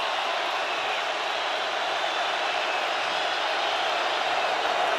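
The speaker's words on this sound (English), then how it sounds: "Crowd at full throat." A packed stadium crowd at an NFL game between the Titans and the Rams roars in a steady, unbroken wall of noise, loud and sustained throughout with no distinct voices standing out.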